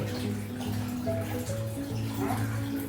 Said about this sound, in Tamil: வேணா கை கழுவ போறேன்